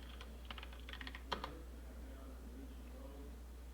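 A handful of quick, light keystrokes on a computer keyboard tap out a short command in a quiet room, followed by a single firmer key press.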